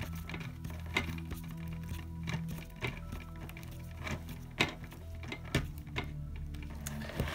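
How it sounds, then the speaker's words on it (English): A screw being driven by hand into the gray plastic arm of a Tamiya DT-01 RC chassis: faint, scattered clicks and small ticks over a steady low room hum, with a few sharper snaps. "it's going to screw into the backside of the gray plastic of the arm."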